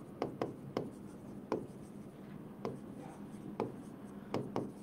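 Marker or chalk strokes writing a sentence on a classroom board during an English grammar lesson, a series of short sharp taps and scratches spaced irregularly, close and moderately quiet over faint room noise.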